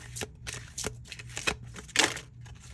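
Quick riffling bursts of playing cards being shuffled, a few rapid flutters and snaps close by, with no voices.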